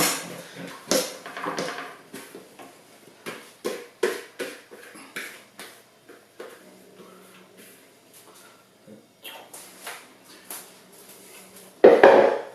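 Spongy, risen bread dough for cheese and bacon rolls being scraped out of a full bowl, giving repeated soft knocks and scrapes in an irregular rhythm, close by, with a louder clatter near the end.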